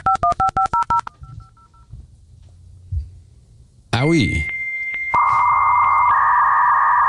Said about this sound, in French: Ce sont les petits sons des modems